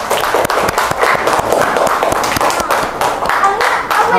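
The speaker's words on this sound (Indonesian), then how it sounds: "Tepuk tangan untuk kelompok Fatih." A classroom group claps for a student team called forward to present during a teacher training session, dense overlapping hand claps filling the room steadily, with voices mixed in.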